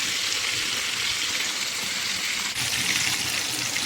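Fish dusted in crispy fry coating or flour sizzles steadily in hot oil in a pan, a dense, continuous hiss close up with no talking.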